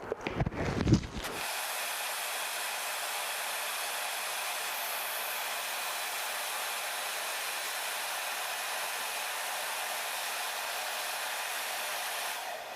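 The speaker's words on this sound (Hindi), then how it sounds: "तो ड्रायर का हमने अच्छे से हीट दे दिया है।" A hair dryer blows steadily and loudly while curly hair is styled with a thin round brush, after a short burst of rustling handling at the start, with no talking.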